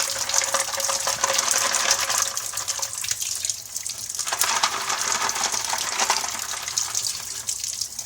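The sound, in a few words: rinsing filter media with water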